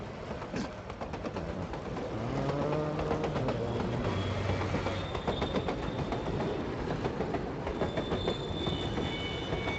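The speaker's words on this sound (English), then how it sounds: "Payroll train dispatched." The payroll train in the Borderlands 2 video game rolls past, a continuous loud rumble of wheels and rail clatter with metallic squealing tones rising and falling throughout.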